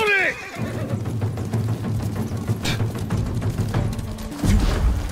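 A horse in the video game Ghost of Tsushima gives a short whinny at the start, followed by a steady rumbling clatter of hooves and distant booms.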